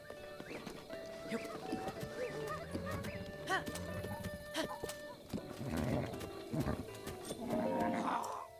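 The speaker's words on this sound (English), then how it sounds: "Alright, let me pull out the horse." Horse hooves clip-clopping in the game Breath of the Wild, a steady rhythmic gallop with a whinny, set against game music and ambient effects throughout.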